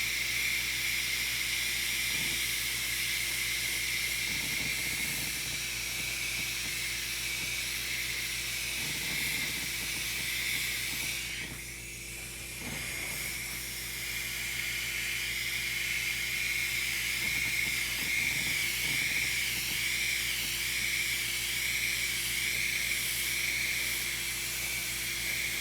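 Mr. Color Black paint hisses from an airbrush in a long, steady spray that pauses briefly midway, set against a constant mechanical hum, likely the compressor.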